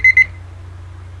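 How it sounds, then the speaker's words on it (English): A LEGO alarm clock rings with two quick, sharp electronic beeps in rapid succession, close and piercing, followed by a low steady hum. "If you want to turn the alarm off when it rings"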